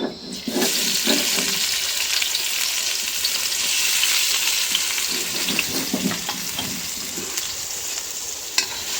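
Onions fry in hot oil with cardamom, cinnamon and cumin paste, giving a bright, continuous close sizzle with brief stirring scrapes and a sharp clink near the end. A voice speaks faintly at the start.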